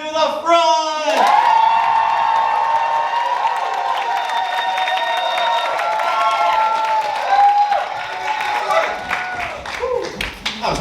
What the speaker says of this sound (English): We can cheer for them players to the front.